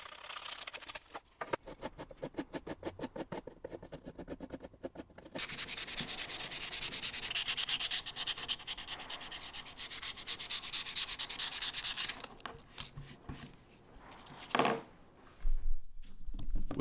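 A sander grinds against plywood knife handle scales, first in rapid rattling strokes and then in a loud, sustained close-up rasp that tapers off near the end.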